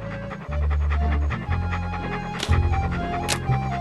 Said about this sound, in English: What a ferocious looking dog.